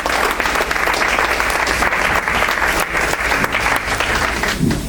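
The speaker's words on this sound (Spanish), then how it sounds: "Denle un aplauso al Señor." A church congregation bursts into loud, sustained applause, dense and close, filling the hall without a break.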